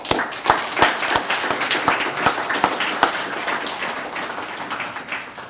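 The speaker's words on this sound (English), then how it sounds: "so let's give the students a clap" An audience at a university anniversary celebration applauds the students, a mix of sharp individual claps and a broader patter of many hands that gradually thins and fades toward the end.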